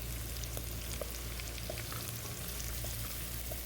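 Chicken tinola ingredients with lemongrass, green chilies, bay leaves and peppercorns are stirred in a pan, giving a soft steady sizzle with faint scraping clicks and no voices.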